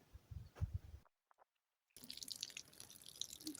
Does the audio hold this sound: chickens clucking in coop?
no